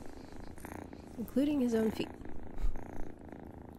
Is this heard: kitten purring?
yes